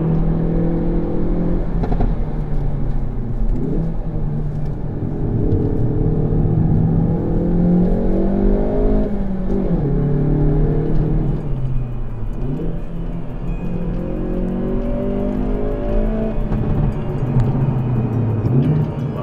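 A 2018 Hyundai i30 N Performance engine revs hard against its rev limiter, a loud, close, sustained drone with a rhythmic stutter as the limiter cuts in and out throughout.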